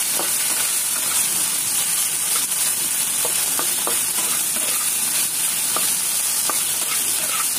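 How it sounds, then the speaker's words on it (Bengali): Boiled potatoes frying with onions in a pan give a steady, close sizzle throughout, with occasional light scrapes and stirring clicks as the mixture is moved around. "এখন আমি পেঁয়াজের সাথে এটাকে বাগার দিব।"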